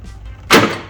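A C8 Corvette car door is shut once, a single sharp solid thud halfway through, close by, after a brief quiet lead-in.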